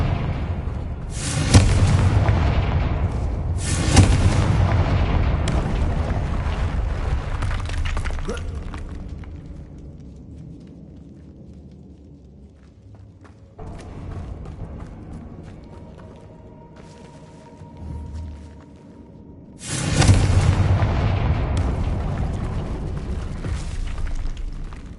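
Loud fiery spell blasts from the Confringo curse in Hogwarts Legacy, three booming explosions with crackling bursts several seconds apart, each trailing into a rumbling decay over quieter ambient game sound.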